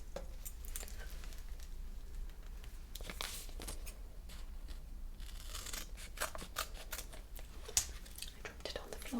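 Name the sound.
scissors cutting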